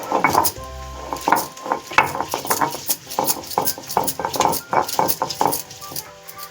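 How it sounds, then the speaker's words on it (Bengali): Green chili, ginger and cumin are ground into a spice paste by hand, giving a steady run of rhythmic scraping and knocking strokes, close and fairly loud, with faint sounds of a kitchen behind. "তো দেখো মশলাটা আমি বেটে নিচ্ছি"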